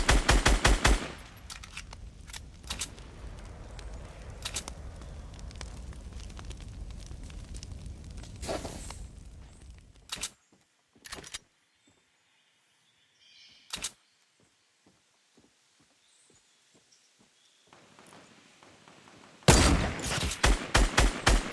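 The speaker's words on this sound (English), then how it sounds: "I do manage to land a pick on this guy with the sniper" Rapid bursts of gunfire rattle through a Fortnite match, dense automatic fire for the first stretch, then a few isolated sharp shots like sniper cracks separated by quiet, before another loud volley breaks out at the end.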